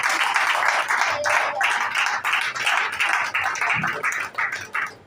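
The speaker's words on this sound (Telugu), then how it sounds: "గట్టిగా చప్పట్లు కొట్టు దేవునికి." A church congregation claps loudly in a steady, dense rhythm of hand claps that fills the room, with brief dips between bursts and a voice faintly present underneath.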